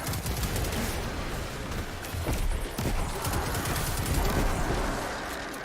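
Gunfire and explosions crackle continuously in Destiny 2 gameplay: dense, loud bursts of shots with heavier blasts mixed in, filling the whole few seconds.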